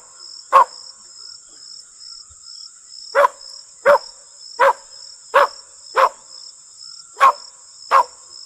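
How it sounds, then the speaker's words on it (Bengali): A dog barks about seven times, each bark sharp and separate with pauses between, over a constant drone of crickets in a quiet spot after rain. "একটা কুকুর অনেকক্ষণ ধরে ঘেউ ঘেউ করতে থাকে।"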